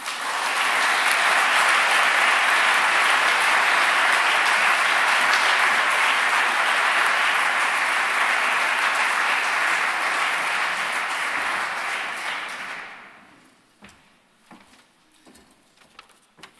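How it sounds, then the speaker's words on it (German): Sustained, dense applause from a large audience at an academic annual celebration, loud and steady for about twelve seconds before fading into scattered claps and quiet. "Applaus"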